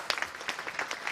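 Audience applause after a conference session, a short burst of scattered clapping, faint and distant.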